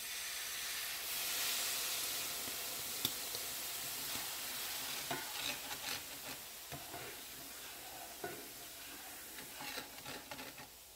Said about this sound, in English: the pan's hot, liquid, it's going to sizzle up